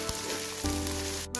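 Frozen ginger-garlic paste drops into hot oil with fried whole spices, and a loud, steady sizzle flares up close, with no talking.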